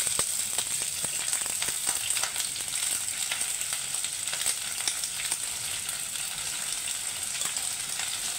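Vegetables fry gently in a wok over low gas, making a continuous even sizzle with fine crackling pops throughout and no voices.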